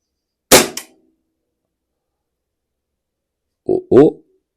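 A Stoeger XM1 air rifle fires at a target: two sharp, close cracks with a short ring, about three seconds apart, with silence between them.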